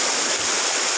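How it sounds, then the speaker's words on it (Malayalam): The Marayoor waterfall rushes in a dense, steady roar of falling water, loud and unbroken throughout with no voices over it. "അതിഭയങ്കരമായ വെള്ളച്ചാട്ടം"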